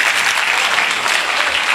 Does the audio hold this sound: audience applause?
yes